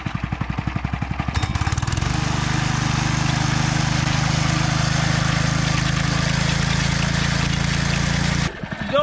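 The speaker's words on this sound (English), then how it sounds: "They go by a variety of different names, earth auger or a fence post auger." A gas-powered earth auger for digging fence post holes starts with sputtering pulses, then runs at a steady, loud, close-up engine drone for several seconds before cutting off near the end.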